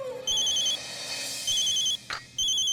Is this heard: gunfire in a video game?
no